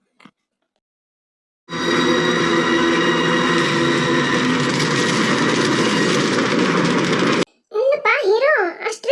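A train runs on rails in a Kannada film scene, giving a loud, steady rumble that lasts several seconds. It cuts off abruptly, and a brief voice follows.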